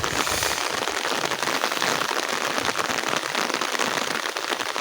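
Heavy rain pours steadily on a rural Sundanese morning in West Java's countryside, a dense, even hiss of drops that fills the whole scene without a break.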